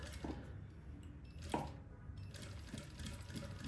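A straight-stitch sewing machine backstitches a seam on a dress gathered with elastic shirring thread, giving a faint, steady low mechanical whir with a few soft clicks.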